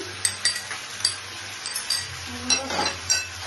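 Spices fry for a dhaba-style paneer curry in a pan, a soft sizzle under repeated sharp clinks and scrapes of a spoon stirring against the metal.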